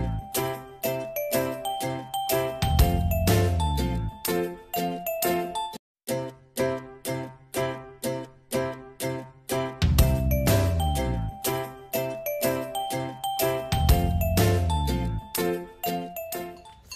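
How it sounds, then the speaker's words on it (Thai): A small bell jingles in quick, bright repeated shakes, coming in bursts with brief pauses and a short gap midway, loud and close with no voices. "ได้ยินแต่เสียงกระดิ่ง"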